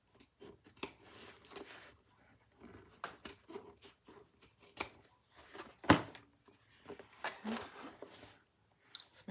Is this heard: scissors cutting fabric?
yes